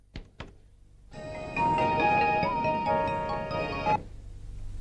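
A phone ringtone plays in a Telugu comedy scene, a steady electronic melody lasting a few seconds after two short knocks, clear and close with no talking.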